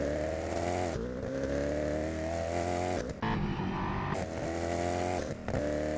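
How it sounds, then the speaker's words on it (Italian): McLaren P1 mod car engine in a video game, a loud continuous droning engine note with steady harmonics, briefly dipping and shifting pitch a few times as the revs change, heard alone without talk. "questa mod qua, McLaren P1, ha un suono strano"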